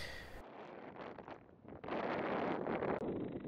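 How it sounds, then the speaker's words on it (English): Wind buffets a microphone outdoors on a windy day, rumbling in uneven gusts that swell and fade, loud and close with no other clear sounds. "As you can see, it's a windy day."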